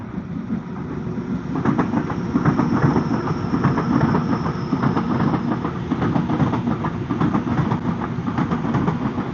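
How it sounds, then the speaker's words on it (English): A passing train, probably a double-decker commuter set, rolls by at a park in a steady, loud rumble with rhythmic clickety-clack from the wheels on the rail joints, building from the start and holding at full strength. "Here comes the train."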